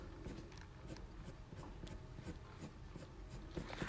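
A pencil makes soft, quick scratchy strokes while drawing strands of fur on paper, the short strokes repeating in a light, close rhythm.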